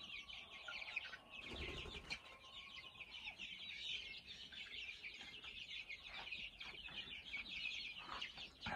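Chicks out foraging keep up a steady, fairly faint chorus of high peeping and soft clucking. A brief rustle or flap of wings comes early on, and no one speaks.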